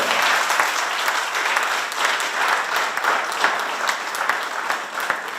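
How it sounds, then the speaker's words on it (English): Sustained audience applause at a governor's press event in Bluefield, following news of a new Grant Street Bridge; dense, steady clapping from a sizable crowd fills the whole stretch with no break. "Now y'all need to clap really big for that."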